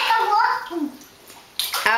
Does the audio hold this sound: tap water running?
yes